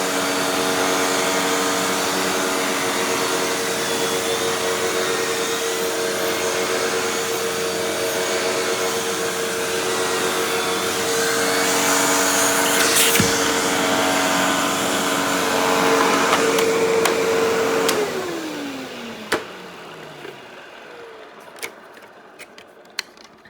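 A Hoover Windtunnel bagless twin-chamber upright vacuum runs with a turbo brush tool, a steady loud whine and rushing airflow that holds for about eighteen seconds, then spins down and falls quiet, leaving a few faint clicks.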